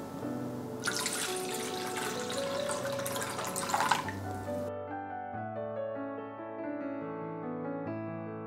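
Water pours steadily into a pot for a few seconds, a broad splashing rush over soft background music, then stops; water for agar-based red bean jelly.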